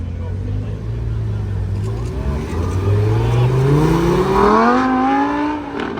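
A Bentley Continental GT Speed at an exotic car show in Canada pulls away in first gear. Its engine note climbs loud and close as it accelerates. Voices can be heard around it.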